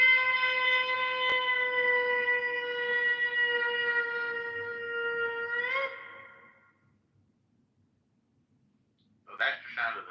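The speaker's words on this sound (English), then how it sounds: "So that's the sound of the shofar waking us up." A shofar blown in one long, steady, harmonically rich blast lasting several seconds, bending slightly at the end before cutting off, followed by silence and a brief voice.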